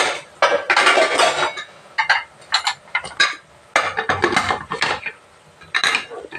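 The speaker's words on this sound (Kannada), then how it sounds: "ಹಾಕೆಲ್ಲ ಚೆನ್ನಾಗಿ ಮಿಕ್ಸ್ ಮಾಡಿ ಮುಚ್ಚಳ ಕ್ಲೋಸ್ ಮಾಡಿಬಿಡಿ" Rice being stirred in a metal pot for village-style ghee rice, then a lid set on: bursts of scraping and clanking, with a few brief pauses between them, close and fairly loud, with no talking.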